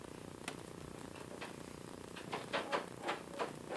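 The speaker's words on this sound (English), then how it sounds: "I have 3 kittens that are wide awake at 2 in the morning, so they're rattling in the background is what you're hearing" Three kittens rattle and clatter around on a couch at night, making a string of light, irregular knocks and rustles. The noise grows busier toward the end over a steady soft background hum.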